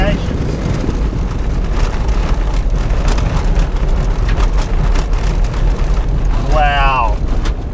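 Car rolling along a corrugated gravel road on the way to Betty's Beach near Esperance, with steady, dense road rumble and rattle throughout and a brief tonal squeal late on.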